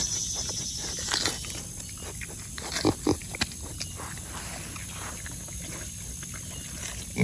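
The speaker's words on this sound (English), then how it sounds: "Happy little pigs." Pigs in a farm yard grunt and snuffle steadily up close, with a few sharper squeals breaking through and a louder squeal at the very end.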